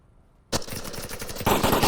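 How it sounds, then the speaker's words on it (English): Gunfire in the VR shooter Onward during a competitive match breaks out suddenly after a quiet moment as a rapid burst of shots, then grows louder. "Shots coming out already."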